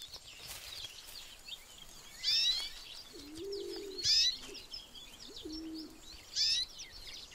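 Canaries call near a fruiting arbutus tree, giving three short, bright chirping bursts spaced a couple of seconds apart. Lower cooing notes sit between them over a soft outdoor background.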